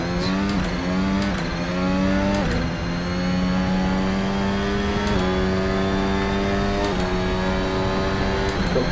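A VRC Formula Alpha 2022 open-wheel race car in Assetto Corsa screams through repeated upshifts, its high-revving engine note climbing, dropping at each gear change and climbing again in a steady loud rhythm.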